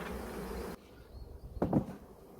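Honeybees buzz around an opened hive during a honey harvest, a steady close hum that drops sharply partway through and is followed by a brief thump of hive equipment.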